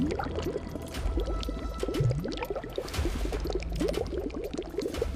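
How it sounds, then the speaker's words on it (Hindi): Water flows and trickles somewhere below in a dark underground passage, a continuous bubbling, gurgling wash with small splashes and drips, moderately loud and unbroken. "ये शायद पानी बहने की आवाज थी।"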